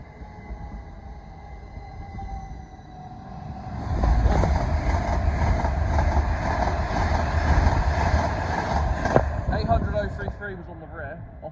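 GWR Class 387 electric passenger train, 387.168 bound for Didcot Parkway, passing through Ealing Broadway, its rumble swelling loud and steady midway and then easing, with broad rail noise throughout.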